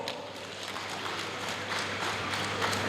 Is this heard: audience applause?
yes